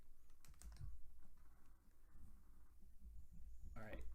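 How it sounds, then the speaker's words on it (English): Keys clatter in quick, irregular bursts on a new, unmodified keyboard, recorded close to the microphone, quiet overall, with speech in the clip. "now I'm just going to stick my microphone right in front of the new keyboard, and I'm just going to type some stuff"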